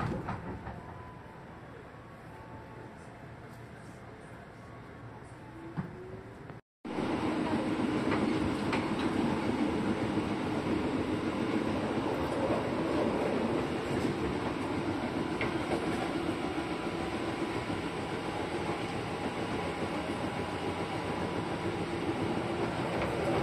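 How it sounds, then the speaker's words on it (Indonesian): Inside a moving KRL commuter train carriage on the line toward Universitas Indonesia station: a steady loud rumble and rail hum with rhythmic clicking, quieter at first, then briefly cutting out before resuming louder and constant. "Ya beginilah kira-kira suasana di dalam gerbong"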